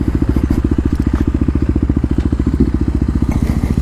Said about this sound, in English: Let's take a break from the wheelies here real quick and do a little burnout.